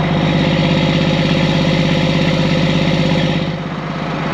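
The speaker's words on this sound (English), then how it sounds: "Fast tick over warming her up." An ERF truck's diesel engine runs at a fast tick-over while warming up, a loud, steady, close rumbling idle with an even rhythmic pulse that eases slightly near the end.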